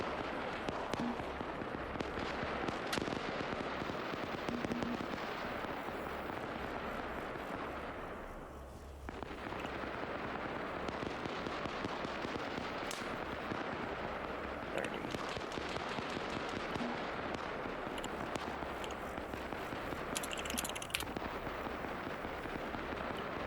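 Arma 3 artillery fire support hits in a sustained barrage on a trench warfare battlefield. Dense, rapid booms and crackling blasts pile up continuously and loudly, with a brief lull partway through.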